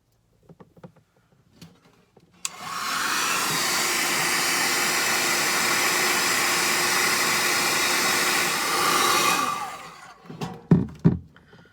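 A heat gun roars at close range for about seven seconds, shrinking heat-shrink tubing over exposed terminals on a caravan 12v socket, a loud steady blowing hiss that starts abruptly and cuts off, followed by a few handling knocks.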